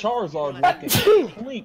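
A single sharp sneeze bursts out in the middle of lively talk during a casual gaming stream, loud and close.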